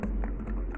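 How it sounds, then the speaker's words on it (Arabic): Spoon stirring yeast and sugar in a small bowl to dissolve it, a quick run of light scraping taps close by with no talk. "هنقلب بقى الخميره مع السكر ونسيبها شويه عقبال ما نحضر بقيه المكونات بتاعتنا"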